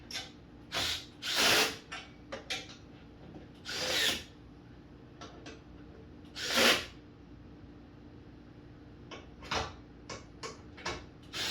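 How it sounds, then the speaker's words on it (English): Repeated short ratcheting bursts from a 1/2-inch wrench pulling nuts off the lower doors of a 2021 Polaris RZR XP4 Turbo, a dozen or so uneven clicking spells with quiet pauses between, close and fairly loud. "So I'm going to get my 1/2-inch wrench"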